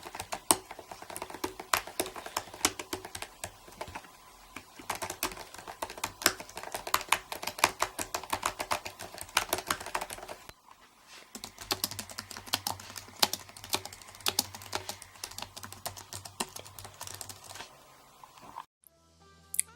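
Fast, continuous typing on a 2016 MacBook Pro laptop keyboard, dense shallow clicks close up and fairly quiet, with a brief pause midway and no voices.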